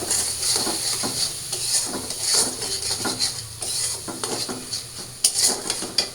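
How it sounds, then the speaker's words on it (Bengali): Turmeric, coriander and chili masala with a splash of water being stir-fried in a pan, heard as a steady close sizzle with repeated scraping and clinking of a spoon against metal. "তো মশলাটা একটু কষায় নিই।"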